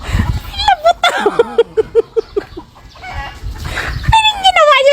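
Chickens cluck and squawk in a run of sharp, repeated calls while being chased outdoors at a resthouse, with people talking and exclaiming over them nearby.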